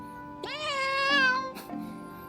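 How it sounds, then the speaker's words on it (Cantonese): A cat gives one clear, drawn-out meow close by, followed by a short softer sound at the end. "邊個上嚟睇貓啊？"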